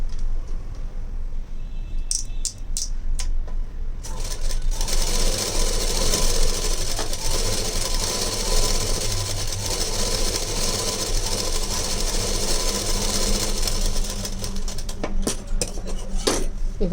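A sewing machine stitches a blouse lining in rapid continuous bursts, loud and close, with short starts and stops and a few clinks at the beginning and end.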